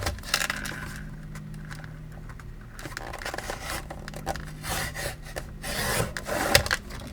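Paper is cut into one-inch strips for junk journal tag backgrounds, giving a steady scraping, rasping stream of cutting strokes up close, with no talking.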